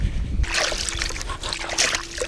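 Fishing baits are tossed into shallow, shell-strewn water on a southern spring fishing trip, and a sudden splash breaks into continuous close sloshing and splattering.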